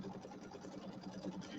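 Computerized quilting machine stitching a Halloween settee pillow, a steady mechanical hum and fast rhythmic needle pulsing that runs evenly throughout at moderate, close level, with faint voice-like murmur in the background.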